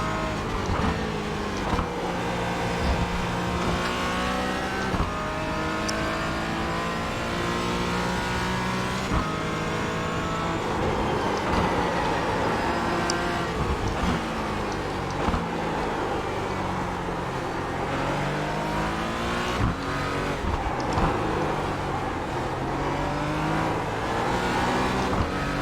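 Porsche GT4 race car in iRacing at Summit Point or Laguna Seca, engine revving up and down through gear changes in repeated rising sweeps, loud and continuous with occasional tire noise.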